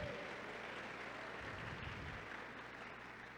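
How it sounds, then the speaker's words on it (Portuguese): Church congregation applauding during a sermon, a soft, diffuse wash of clapping heard at a distance, steady and faint throughout. "Dê um aplauso ao Espírito Santo."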